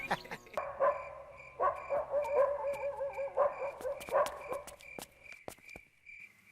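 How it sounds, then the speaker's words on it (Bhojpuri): Dogs bark and yelp at night in a film scene, a run of close, sharp, irregular barks and whining calls clustered over a few seconds, then fading to a few scattered yips. "ये कुत्ता लोग भी रात में सोते ना देला"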